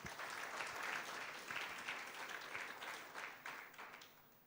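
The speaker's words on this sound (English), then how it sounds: "Let me request this audience to give you another big, big round of applause" An audience at an East Africa capital markets conference gives a brief, soft round of applause, a dense patter of many hands that holds steady for a few seconds and then tapers.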